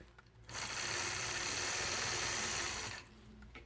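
Domestic sewing machine stitching in the ditch along the seams of a patchwork quilt block, a steady close whirring run of about two and a half seconds that starts and stops abruptly, with no talk.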